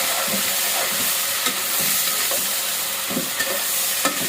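Tomato stir-fried in a pan for a winter vegetable curry of cauliflower, beans and potato sends up a continuous loud sizzle, broken by periodic scrapes and clacks of a spatula, with no talking.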